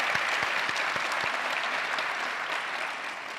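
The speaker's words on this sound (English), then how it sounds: "let's applaud that." A convocation audience at a university ceremony breaks into steady, dense applause that fills the hall, with many hands clapping together and fading slightly toward the end, and no voices stand out above it.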